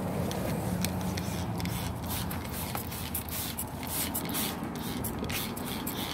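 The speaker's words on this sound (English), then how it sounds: "don't stand from one side and just spray the top." A hand sprayer mists a mix of water and milk onto a garden plant, giving soft repeated hissing spritzes with rustling of leaves, close by and fairly quiet.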